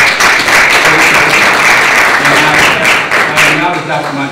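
An audience at a lecture on slavery, Jim Crow, lynching and the death penalty applauds a guest. Steady, close, dense clapping runs throughout, with voices mixed in near the end.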